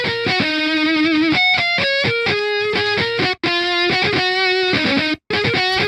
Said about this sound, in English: And this is the guitar solo.